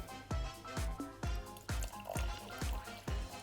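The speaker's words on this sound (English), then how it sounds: "I'm going to just add in a little bit more water." Water is poured in repeated short splashes into a pot for chicken biryani, roughly seven quick rhythmic glugs that sound close and fairly soft, with no talking.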